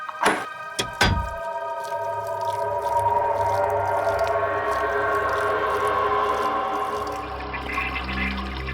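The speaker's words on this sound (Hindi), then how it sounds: "किसी ने बाथ बेसिन का नली खुला छोड़ रखा है" Water gushing from an open bathroom basin tap, a steady loud rush after a couple of sharp knocks at the start, running continuously with no voices.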